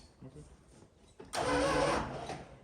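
A 1978 Dodge Aspen Super Coupe engine, left sitting for 30 years, cranks over with a loud, close churning whir that starts abruptly after quiet shuffling and runs for over a second before fading.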